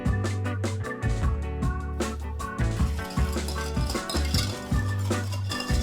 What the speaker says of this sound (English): combine our sugar, a little bit of cornstarch, and some salt in a pot and get it all whisked together so there's no lumps